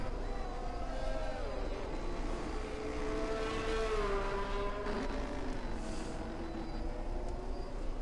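A race car engine in a sim racing game at Singapore: a steady, buzzing engine tone rises and falls as it shifts through the gears, with a downshift audible partway through, all under continuous commentary.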